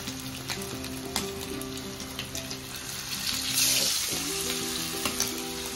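Oil sizzles steadily in a home kitchen pan, a continuous frying hiss with occasional clinks and a brief louder flare partway through, close and fairly loud with no talking.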